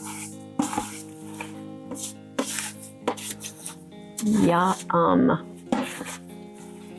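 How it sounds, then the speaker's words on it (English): Fruit pie filling with a pinch of salt is stirred inside an Instant Pot, the spoon scraping and knocking against the pot in bursts while a person talks and hums over it. "now we're going to mix it up as good as we can in here"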